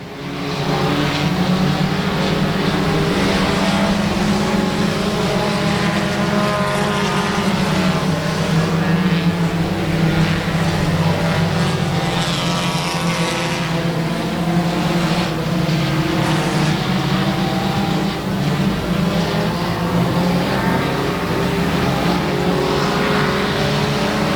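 Race cars roar around Lonestar Speedway in a battle for the lead, a continuous loud blur of engines rising and falling as the cars lap the track, with no break in the noise.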